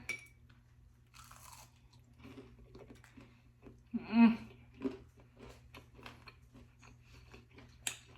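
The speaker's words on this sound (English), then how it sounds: "So let's go ahead and try these tostones." Crispy fried plantain tostones are bitten and chewed up close, a quiet run of crunches with one louder bite in the middle, in a faint room.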